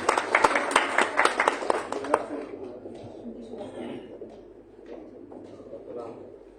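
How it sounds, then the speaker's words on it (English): Audience at an international conference applauds guests called on stage, a burst of clapping that is strong at first and then thins out quickly as murmuring and shuffling take over. "Let's have a huge round of applause for them."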